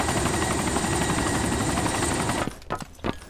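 A loud, close helicopter in the video game DayZ drones with dense rotor noise, then cuts off abruptly, leaving a few brief thuds.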